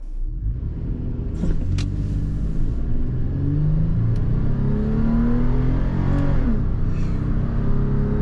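A 2022 Toyota 4Runner accelerates hard through its gears on a hot, humid day, the engine rising loudly in pitch, dropping at shifts and climbing again, heard from inside with no talking.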